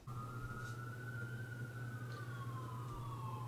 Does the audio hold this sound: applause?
no